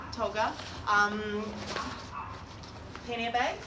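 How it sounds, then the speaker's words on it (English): A little dog barks and yips a few times indoors, in short bursts, at moderate distance, while someone speaks over it. "apologize for the little dog"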